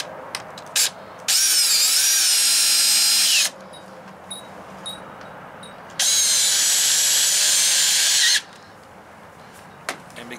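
Power drill driving screws into a bed platform in a Ram ProMaster 2500 159-inch wheelbase van, two loud, sustained whirring bursts of a couple of seconds each, separated by quiet pauses with faint clicks.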